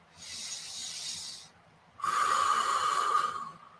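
Deep breathing, close and audible: a long airy inhale, a brief pause, then a stronger, rougher exhale with a rasping edge.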